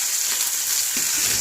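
Nigella seeds and chopped onion frying in hot oil, a loud continuous sizzle with a couple of soft stirring bumps partway through.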